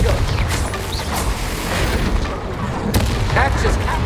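Confrigo fire blast spell cast in Hogwarts Legacy, a loud rumbling explosive burst layered with crackling, crashing game effects, heavy and continuous over a few seconds.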